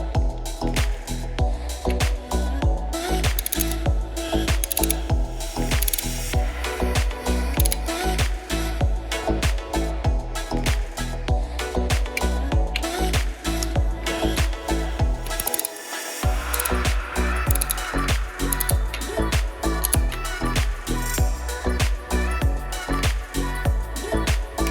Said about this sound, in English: we can now go ahead and tighten these two 8 millimeter bolts